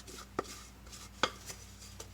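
A wooden spoon knocks and scrapes against a mixing bowl while floury bread dough is lifted out, two distinct sharp knocks with faint scraping between them, close and quiet with no talk.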